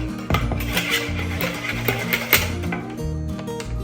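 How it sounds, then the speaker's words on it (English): A whisk clatters against a bowl while mixing a seed-oil-free honey mustard dressing, giving quick, uneven metallic taps and scrapes that run steadily throughout at moderate loudness. "Okay, we're going to whisk this up really quick."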